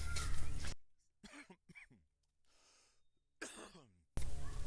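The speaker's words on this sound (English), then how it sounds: "Sorry for the coughing." A person coughs several times in a hot room, harsh bursts separated by quiet gaps, with a couple of louder rough coughs at the start and end.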